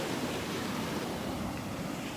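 Ocean surf breaks steadily on a beach in North Naples, Florida, a dense continuous wash of churning water and wind with no voices.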